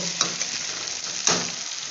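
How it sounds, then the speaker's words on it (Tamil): Onions and tomatoes sauté in a pan for a brinjal and black-eyed pea thokku, with a steady close sizzle and two scraping stirs of a spoon, no voices. "இப்போ நம்ம தக்காளி போட்டுப்போம் போட்டு ரெண்டு நல்லா மிக்ஸ் பண்ணுவோம்"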